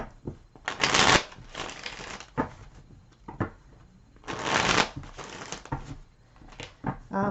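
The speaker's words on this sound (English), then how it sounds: "Let me just get all your cards shuffled." Cards are shuffled close up in two loud riffling bursts, with softer taps and handling sounds in between.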